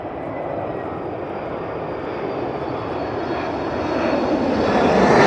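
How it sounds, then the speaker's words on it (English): Airliner engines at Heathrow Airport in high winds, a broad steady roar that swells louder toward the end as the throttle comes up, heard up close without talk. "I love that throttle up."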